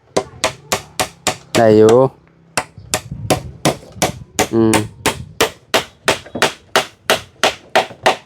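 Steady, evenly spaced hammer blows ring out on wood during timber cutting for building a house, loud and close. A short burst of speech breaks in twice.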